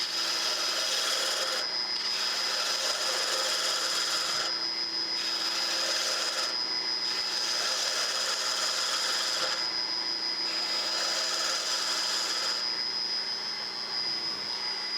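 A new wooden handle for a chisel spins on a lathe while a gouge hogs away material to form a taper, giving a steady whirring motor drone with cutting hiss that rises and drops in repeated passes, near and continuous.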